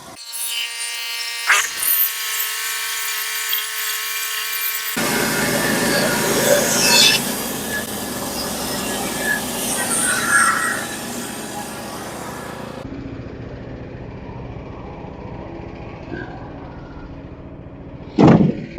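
A sawmill blade screams through a log to split it in half, a loud sustained cut with a tonal whine and grinding that runs for several seconds, then drops to a quieter rumble before a sharp burst at the end.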